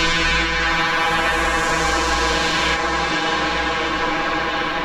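Original synthesizer preset patch, a loud sustained dense buzzing drone with a steady low rumble and bright harmonic layers throughout, heard alone.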